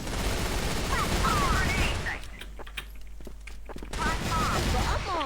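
A shooter video game plays sustained rapid gunfire and explosive bursts from grenades at a loud, dense level, with a sharp drop to sparser single shots and clicks midway before heavy fire resumes.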